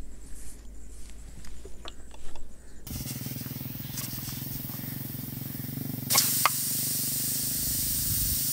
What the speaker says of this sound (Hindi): अब हम प्रेशर कुकर लगा देंगे।